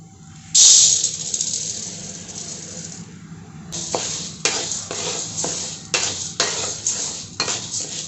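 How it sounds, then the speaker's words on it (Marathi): Chana dal is dry-roasted in a pan on the stove for a multigrain thalipeeth flour, with a spatula scraping and stirring in steady, close strokes after a brief rustling hiss, with no talking. "आपण हरभऱ्याची डाळ परतून घेऊयात"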